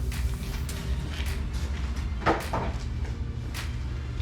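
A plastic interior trim panel clicks as it is pried off near the third-row seats of a Lexus GX460, giving a couple of short snaps midway through over a quiet, steady background.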